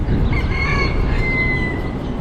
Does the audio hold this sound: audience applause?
no